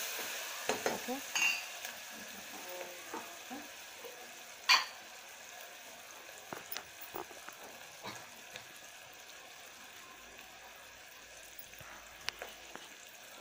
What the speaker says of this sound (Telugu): ఒకసారి ఆనియన్స్ చూద్దాం, కలుపుదాం కరెక్ట్గా.